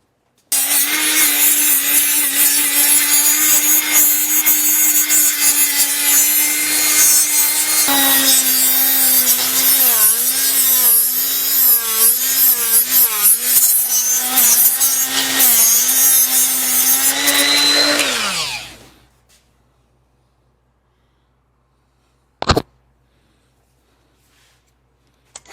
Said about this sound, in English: go in there with some hard rolls now, some flapper wheels,